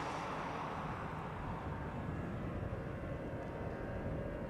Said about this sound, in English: I'm pretty sure we're going to see the EasyJet A319 in a moment. I can hear it.